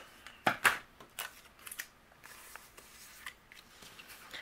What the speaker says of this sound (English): then I'll trim away the excess